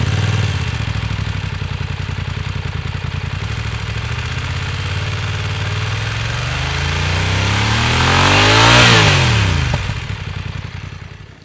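A motorcycle engine heard right at the exhaust, loud and close, idling with a rapid throbbing beat before revving up to a rising roar and dropping back down.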